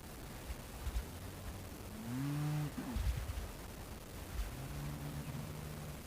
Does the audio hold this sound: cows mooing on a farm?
yes